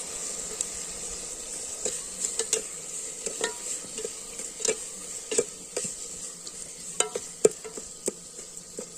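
Stirring tomatoes, turmeric and salt into a snail and crab curry frying in oil in a pan: a steady sizzling hiss runs throughout, broken by repeated scraping and clicking spoon strokes at an irregular rhythm.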